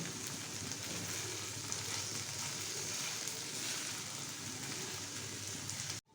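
Steady, dense sizzling of okra frying in a pan without a lid, close and continuous, with no talking, cutting off abruptly at the end.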